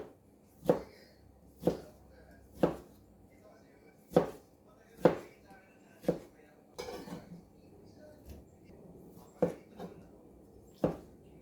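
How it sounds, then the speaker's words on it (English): A knife chops tomato on a cutting board for a chicken biryani, roughly a dozen sharp separate strikes at an uneven steady pace, close and fairly quiet, with no one speaking. "Now we cut tomato."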